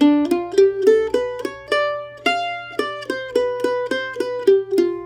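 A mandolin picks out a quick melodic phrase of a tune in bright, plucked notes in a steady rhythm, played alone.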